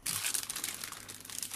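Plastic packaging bag holding model grass for a miniature railway kit crinkles and crunches steadily up close, with dense rustling bursts throughout and no voices.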